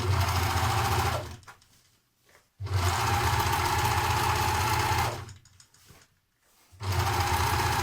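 An overlocker finishes the inner seams of corduroy trousers in two loud, sustained, close-up runs of buzzing stitching, separated by brief pauses.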